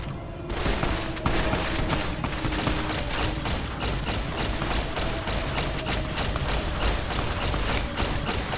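Rapid, sustained automatic gunfire from a weapon in a video game, dense overlapping shots rattling continuously at close range for the whole stretch.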